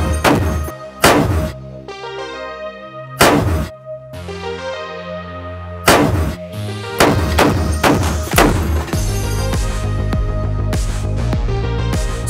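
.50 caliber rifle shots in a basement shooting range, several heavy booming reports spaced apart, each followed by a long ringing decay in the enclosed room, ending in a denser cluster of loud thuds.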